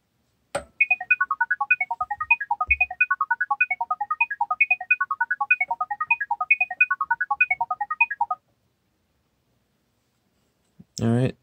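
A Google OnHub Wi-Fi point plays its setup audio signal, a long rapid sequence of bright electronic chirping tones in a repeating melodic pattern, close and clear for several seconds, then silence and a brief noise at the end.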